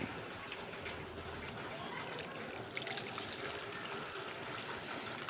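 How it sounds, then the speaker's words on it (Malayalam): Milk diluted with water pours into a feeding container, a steady close trickle and splash that runs unbroken throughout. "കുഞ്ചിയുടെ പാല് ഒഴിക്കുന്ന പാത്രം"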